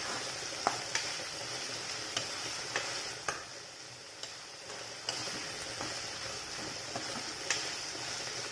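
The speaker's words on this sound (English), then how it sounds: "Next, let's add the roughly pounded garlic and ginger. And after that, let's give it a good stir." Roughly pounded garlic and ginger fry in a pan with a steady, dense sizzle, while a utensil stirring it lands soft clicks and taps against the pan at irregular intervals, close up and without talk.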